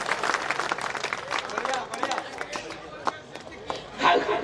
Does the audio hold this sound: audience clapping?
yes